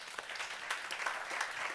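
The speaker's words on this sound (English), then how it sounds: "let's thank them right now by applauding for them, please" Brief, faint scattered clapping from a small group at a debate event, a short patter of applause heard from a distance.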